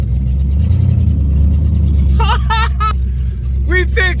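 A rough-running Ford Mustang GT engine idles low and steady while the car backs up, a constant rumble under people talking excitedly.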